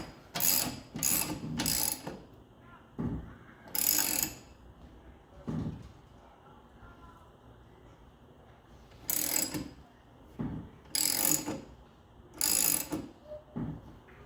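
A car jack being cranked to lift a car for a tire and wheel change gives off bursts of close ratcheting clicks in irregular groups, separated by quieter pauses.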